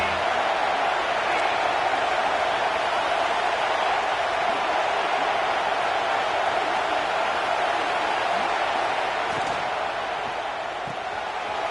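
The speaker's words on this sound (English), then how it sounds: "Decibels rising as the crowd gets behind this defense on 3rd down." College football stadium crowd during a third-down defensive stand, Oklahoma State at UCLA: a steady, dense roar of noise held at a constant loud level, distant and washed, with no distinct voices.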